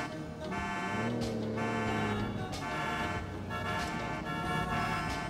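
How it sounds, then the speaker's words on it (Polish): Several car horns in Grand Theft Auto IV honk in overlapping sustained tones and repeated toots amid steady street traffic noise, loud and close, blaring together almost continuously. "oni grają symfonię chyba na tych klaksonach"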